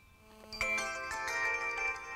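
A mobile phone rings with an incoming call placed by a KEETEC GPS Sniper car tracker, a bright melodic ringtone starting after a quiet moment and sounding clearly and steadily.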